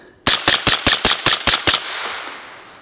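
A rapid string of eight suppressed 9mm shots from a CMMG firing 115-grain rounds through a Silencer Central Banish 9K suppressor, loud and close and evenly spaced, then a fading ring after the last shot.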